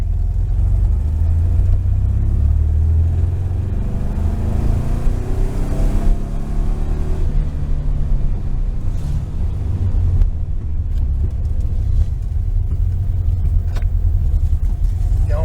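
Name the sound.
1973 VW Super Beetle engine revving, Dellorto carburetor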